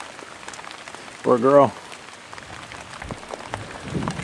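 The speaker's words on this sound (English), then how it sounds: "I can hear and see the rain over there. And it's coming over this way." Rain approaching across open water during a solo canoe trip, heard as a steady soft hiss that thickens slightly toward the end, with a brief spoken phrase near the start.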